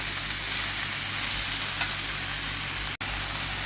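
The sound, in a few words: broccoli frying with pepper in a pan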